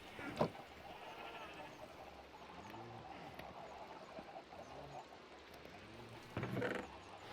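Minecraft sheep bleat in a few short, wavering calls over a steady background hum, with a louder bleat near the end and a voice briefly audible.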